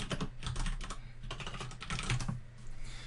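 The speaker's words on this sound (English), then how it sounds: "So I can go ahead, click this reply, and then from here, I can type a response." Someone types a reply on a computer keyboard in a web project management tool, producing a steady, fast patter of close key clicks over a low background hum, with no voices.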